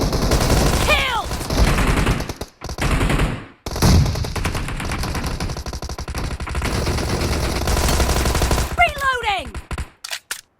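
A Thompson submachine gun without suppressor fires in rapid automatic bursts in a video game, loud and close, with short pauses between bursts and game effects mixed in.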